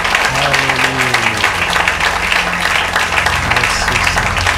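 Congregation applause during a church service, dense steady clapping mixed with crowd voices and sung or chanted tones underneath throughout.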